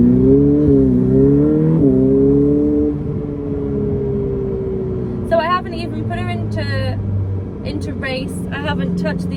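A Ferrari F8 Tributo's V8 exhaust drones steadily from inside the car on an early drive, rising in pitch as it gathers speed and then settling to an even cruise, with some talk and brief chirping sounds over it.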